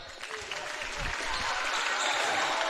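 A basketball gym crowd at a boys' and girls' high school game, Crosspoint Christian against Chiloquin Panthers, cheers and claps loudly in a steady, swelling roar, with a commentator talking over it.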